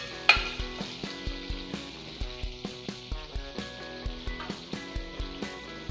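Butter melts and sizzles in a pan, a soft, steady frying hiss broken by regular clicks and taps of stirring, quiet and close.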